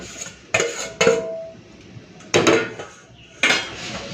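Fried potatoes and paneer tipped into a pot of paneer khichuri, giving four separate clattering bursts of metal cookware and utensil knocks, close and fairly loud, with quieter sizzle between them.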